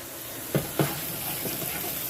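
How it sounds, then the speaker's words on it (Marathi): Garlic and cumin seeds fry in a pan with a steady, soft sizzle. Two sharp stirring knocks land close together near the start, and the hiss continues evenly afterward. "लसूण झाल्या जरा लाल होऊ द्यायचं आहे लसूण त्यानंतर आपलं जिरे टाकायचे जिरे टाकू आपण"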